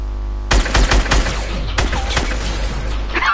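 Loud bursts of gunfire in a shooter video game, several sharp punchy shots clustered early, then scattered reports and a trailing rattle, heard up close with no talking.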